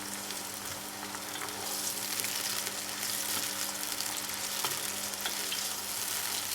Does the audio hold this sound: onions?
yes